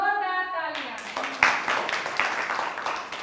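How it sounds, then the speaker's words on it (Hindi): After a tone-like intro, a classroom audience breaks into applause for the first group at a quiz game in a sex-education session, steady clapping from several people at close range. "पहले वाले ग्रुप के लिए जोरदार तालियां"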